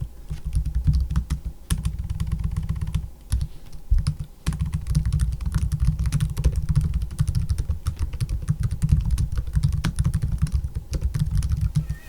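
Continuous typing on the keyboard of an ASUS ProArt P16 laptop, rapid clicky keystrokes in an irregular stream, close and clear with no talking.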